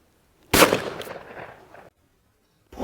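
A single sharp shotgun blast fired at a crossing clay target, close and loud, trailing off in a short rumbling decay before silence and the start of another report.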